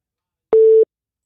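A single telephone busy-signal tone sounds after a call drops, a steady clean beep lasting about a third of a second, loud and isolated in silence.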